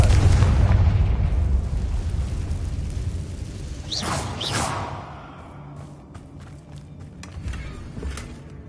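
A Confringo fire spell exploding in the video game Hogwarts Legacy, a heavy rumbling blast that rolls and fades, with whooshing bursts in the middle and a quieter tail.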